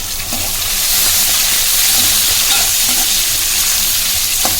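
Two tomatoes tipped into browned onions in a pan for pepper rice, setting off a loud, continuous close-up sizzle and hiss that holds throughout.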